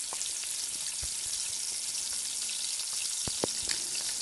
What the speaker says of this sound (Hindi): तो ये स्लाइसेस बहुत अच्छी तरीके से फ्राई हो गए हैं